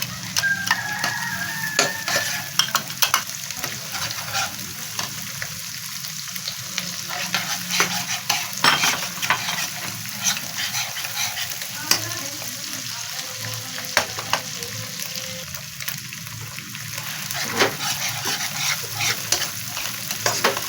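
Garlic and ginger fry in hot oil in a kadai, giving a steady loud sizzle and crackle throughout, with occasional scraping stirs and no voices.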